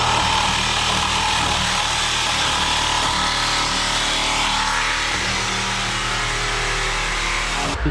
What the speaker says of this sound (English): almost got both cats on the bottom of the downpipe cut off